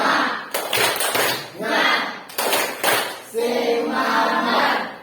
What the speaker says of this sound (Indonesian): saya minta semuanya kita tepuk semangat untuk memberikan penyegaran bagi kita dalam proses pembelajaran ini